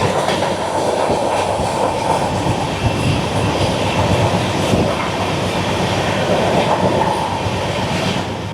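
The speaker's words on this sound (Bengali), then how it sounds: "13125 সাইরাং থেকে গুয়াহাটি এক্সপ্রেস। ও আসছে এবার।" The Sairang–Guwahati Express rolls in with a loud, steady rumble of wheels and carriages, faint clickety-clack beats running through it, close by and continuous, with no speech.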